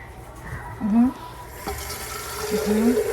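Water trickles and pours steadily from a container in a family water-pouring game, a soft continuous flow that grows slightly fuller midway, with faint voices and movement behind it.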